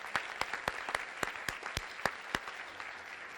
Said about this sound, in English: please one more big round of applause for this wonderful team